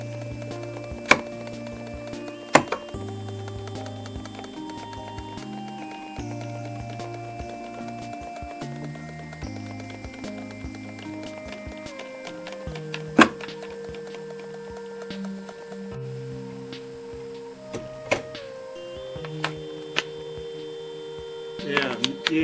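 A model railway scenery machine hums with a steady low electrical tone while being shaken, overlaid by scattered taps, clicks and small knocks throughout.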